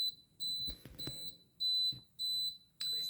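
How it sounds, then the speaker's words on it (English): A refrigerator gives a run of short, high electronic beeps, five or six evenly spaced pulses, while soft handling noises and light bumps sound nearby in a quiet kitchen. "It's okay, just beeping"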